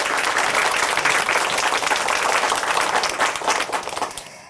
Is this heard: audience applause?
yes